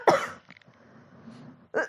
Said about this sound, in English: I need to cough for a sec